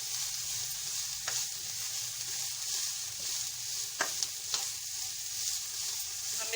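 Vegetables for soup sautéing on high heat, a dense, steady sizzle filling the whole stretch with occasional sharp clicks of a spoon against the pan.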